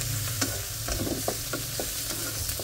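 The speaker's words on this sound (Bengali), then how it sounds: "পেঁয়াজও ভেজে নিচ্ছি এটার সাথে" Onions frying in a pan on a home stove, a steady loud sizzle with small clicks of stirring running throughout, no voices.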